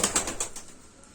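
Pigeons in a loft beat their wings in a quick burst of five or six flaps, close and fairly loud, fading out toward the end.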